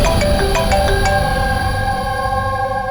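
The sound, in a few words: phone ringtone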